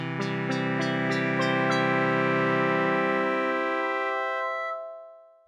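A digital synthesizer plays eight notes at once across eight voices, struck as a rapid cluster at the start and then sustained as one loud, rich chord that rings steadily before fading out near the end, with no talking.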